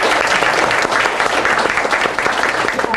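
An audience at a homecoming gathering claps in dense, steady applause that carries evenly through the moment.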